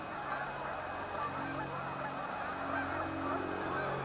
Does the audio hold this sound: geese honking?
yes